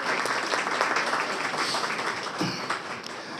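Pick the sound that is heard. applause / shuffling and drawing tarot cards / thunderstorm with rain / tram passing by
applause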